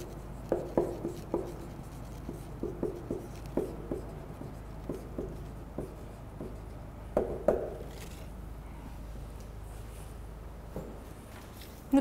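Chalk or marker taps and scratches on a board in short irregular strokes, a cluster of quick knocks followed by sparser ones, fairly close and moderately quiet in a quiet room, with no talking.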